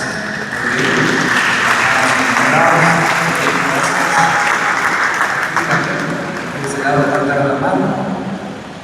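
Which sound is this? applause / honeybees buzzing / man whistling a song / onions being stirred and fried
applause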